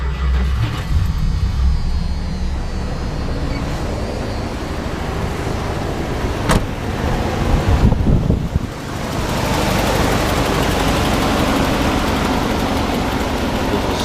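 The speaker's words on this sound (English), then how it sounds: "I'm going to depress the accelerator one time and turn the key" A carbureted 1987 Dodge Ram 2WD truck with a new motor cranks and catches, then settles into a steady, rough idle heard close up outdoors, with a slight exhaust tick and wind brushing the microphone.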